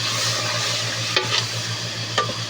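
Garlic for a curry frying and stirred in a pan, a steady low sizzle with a couple of brief scraping stirs of the spoon, close and moderately loud, no talking.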